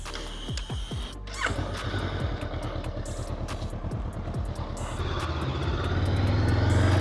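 A Honda CB500F motorcycle on the move, its parallel-twin engine droning steadily and rising in pitch as it accelerates up through the gears, with wind rush building toward the end.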